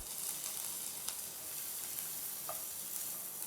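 Cumin seeds and finely chopped green chilies sizzle steadily in a little hot oil, a continuous close frying hiss with a couple of faint stirring taps and no talking.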